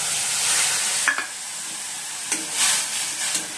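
Mustard and poppy seed paste fries in oil with eggplant and black cumin, giving a steady hissing sizzle broken by a few sharp scraping stirs of a spatula in the pan.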